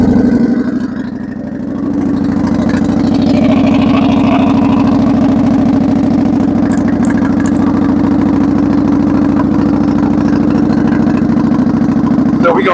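Harley-Davidson motorcycle starting from cold and settling into a steady, loud, close idle, a deep even rumble with a brief dip near the start.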